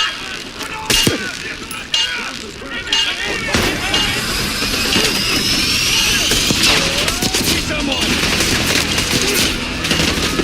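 Dense, continuous gunfire in the Black Ops 6 video game, a chaotic fusillade of overlapping shots and bursts mixed with machine-like whirring, loud and sustained for the whole stretch while a voice calls out briefly.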